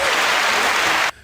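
Loud studio-audience applause welcoming guest Debbie Renfroe onto a podcast, a dense, steady wash of clapping that cuts off abruptly near the end.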